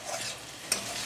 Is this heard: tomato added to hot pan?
yes